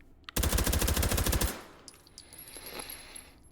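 A suppressed H&K MP5K in the H3VR game fires one short burst of about a dozen rapid, evenly spaced shots lasting roughly a second, followed by faint mechanical clicks and quiet.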